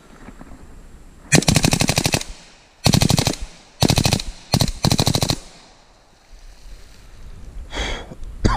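A suppressed AR rifle fitted with a Rare Breed FRT trigger fires several loud, rapid bursts of closely spaced shots in an outdoor setting, with brief pauses between strings and a hot, hissing suppressor.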